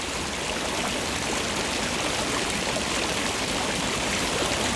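The Jaurujoki river in Urho Kekkonen National Park in Finland rushes and burbles loud and close during a crossing, a dense, continuous stream flow with no talk.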